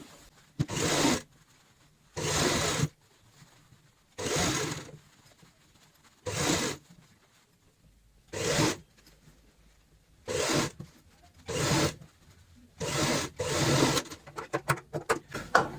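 A sewing machine stitches a ladies' purse made from old cloth, running in about nine short bursts of a second or so each, separated by brief pauses, close and steady with no talk.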